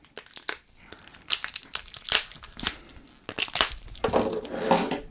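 Loud crinkling and crunching of tape and plastic packaging in irregular bursts while unboxing TMNT toys, with tearing-like rustles, handled up close and no talking.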